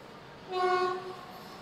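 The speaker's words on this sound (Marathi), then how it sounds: "इथून बघू शकता ट्रेन पण जाते" A train horn sounds once, a steady tonal blast lasting under a second, fairly distant over faint background rumble.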